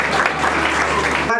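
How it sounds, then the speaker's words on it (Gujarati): Audience applause at a Kutchi Rajgor Samaj community event: a dense, steady burst of clapping from a crowd that holds at full level for over a second, then cuts off abruptly. "કાર્યકર્તાઓને વિનંતી કરીશ કે ધનજી બોડા જોરદાર તાળીઓથી આપણે એમાં સહભાગી બનીએ."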